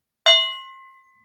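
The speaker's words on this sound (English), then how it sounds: "Ring the AI gong." A single struck gong rings out with a sharp metallic attack and a long, steady, tonal decay lasting about a second, heard alone.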